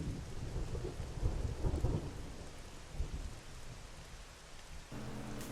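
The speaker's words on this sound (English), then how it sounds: "I like how it's raining inside the barracks." Rain falls steadily in the Xenoblade Chronicles X video game, a dense wash of drops with low rolling thunder rumbling underneath, soft and continuous with no voices.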